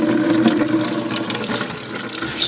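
Water gushes from an unscrewed bathroom sink pop-up drain into a small bucket below while the clogged sink is being fixed. The close, steady splashing and trickling keeps up throughout without any talk.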